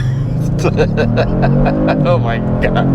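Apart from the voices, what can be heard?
2022 Kia Stinger GT2 revving on launch control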